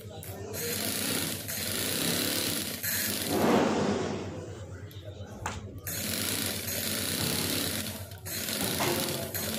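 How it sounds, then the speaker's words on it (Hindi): A sewing machine stitches polyester fabric for a roti cover, running in a fast steady mechanical rattle with brief pauses, while someone talks over it. "इस तरीके से मैं सिलाई की मदद से बराबर करती जाऊंगी इसे।"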